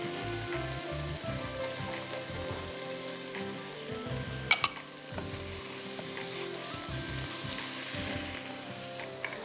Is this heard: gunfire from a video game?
no